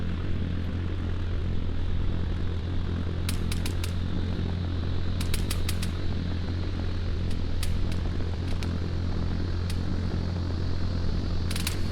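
A drone drones steadily overhead in the video game Arma 3, a constant low engine hum under the scene, punctuated by sharp clicky bursts.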